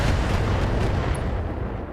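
Heavy mech weapons fire on a Warhammer mech in BattleTech, a dense, continuous roar of booming artillery-like blasts that stays loud and steady throughout.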